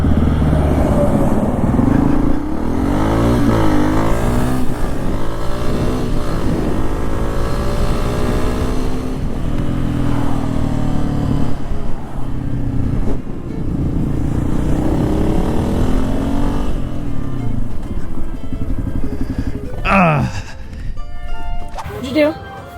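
A motorcycle on a break-in ride accelerates through rising, revving engine sweeps over steady wind rush, with a rider talking over it throughout.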